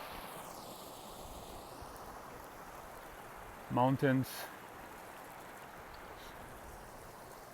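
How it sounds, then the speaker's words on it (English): A snowmelt-fed river rushes steadily through a mountain meadow on the Pacific Crest Trail between Kennedy Meadows and Kearsarge Pass, a constant broad roar of water with a voice briefly speaking over it. "A beautiful sound, beautiful river."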